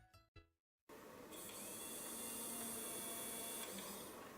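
A small 3D pen motor, switched on through soldered pins on a breadboard, whirs with a steady high buzz. It starts after a few faint clicks and a brief silence, then keeps running alone and fairly close.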